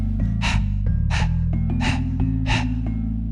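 Four sharp, forceful nasal exhales of breath-of-fire breathing in an even rhythm, each a short breathy burst from the belly, over a steady low droning background.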